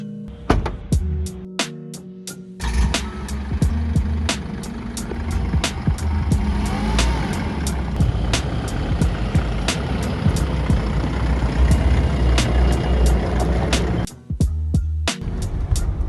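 A Force Gurkha off-road vehicle on a test drive: loud, steady engine drone and road rumble close up, with a run of sharp repeated beeps over it and a brief drop near the end.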